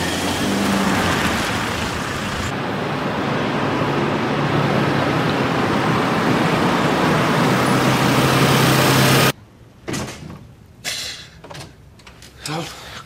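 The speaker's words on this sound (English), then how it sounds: "This traffic's terrible." Steady roar of road traffic heard from inside a moving vehicle in a drama scene, a loud continuous rumble that drops away abruptly near the end. Brief voices and short knocks follow in a quieter space.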